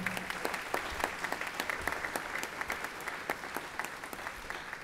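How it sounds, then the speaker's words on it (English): Banquet audience applauding Supervisor Marion Ashley at a chamber of commerce installation and awards dinner, a steady wash of many hands clapping throughout with sharp individual claps standing out, fairly close and sustained. "Let's give Supervisor Marion Ashley another round of applause."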